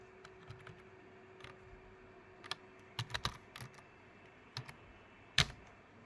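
Scattered keystrokes on a computer keyboard while writing ReactJS code, isolated clicks and short clustered bursts over a steady low hum, fairly close and quiet, with no talking.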